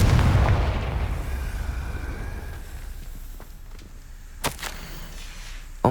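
A Confringo fire spell in Hogwarts Legacy goes off with a deep rumbling boom that fades away over a few seconds, followed by sharp whip-like cracks and a final snap near the end.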